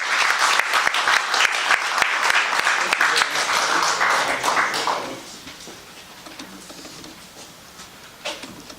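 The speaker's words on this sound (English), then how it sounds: "let's welcome Professor Ross King with a big round of applause" An audience applauds to welcome lecturer Professor Ross King at the RAS, dense steady clapping for about five seconds that then thins out and fades to scattered claps and room noise.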